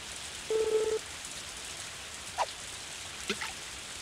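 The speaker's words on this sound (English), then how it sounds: "It is nice when it rains in game." Steady soft rain falls throughout in the farming video game Story of Seasons: A Wonderful Life, with a short electronic tone and a few faint chirps over the wash, no talk.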